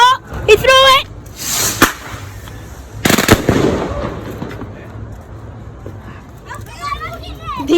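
Fireworks going off outdoors near a bush, sharp loud bangs and crackling bursts with a sizzling tail, while excited voices talk and shout over them.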